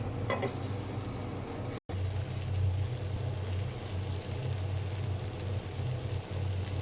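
Steady sizzling and crackling of pangas fish frying on a banana leaf, continuous and fairly close, with a brief cut to silence partway through.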